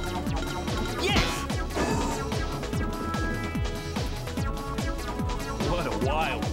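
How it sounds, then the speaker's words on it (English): Glass shatters as Knuckles breaks through it in Sonic Heroes, a crashing smash set over driving, rhythmic game music that plays throughout. "Hey, Knuckles, do you think you can break through this glass?"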